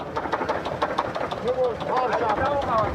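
Russian expedition truck engine running rough with suspected piston trouble, a steady mid-pitched idle with a faint uneven knock continuing throughout, while voices talk faintly over it.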